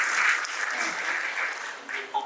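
An audience claps at an indoor speech and prize event, a steady, fairly close burst of applause lasting a couple of seconds before it tapers off.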